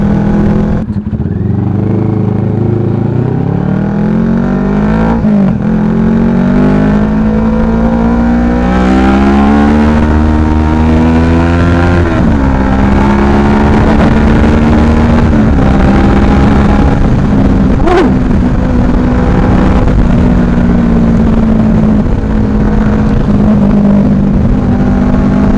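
A CFMoto NK motorcycle engine, freshly given an oil change, revs up loudly and close by, climbing and falling in repeated throttle blips over a steady running drone.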